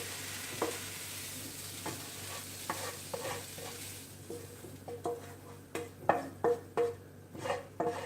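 Diet Coke chicken frying in a wok, a steady sizzle underneath while a utensil stirs and scrapes the pan in a quickening series of close knocks toward the end, no voices.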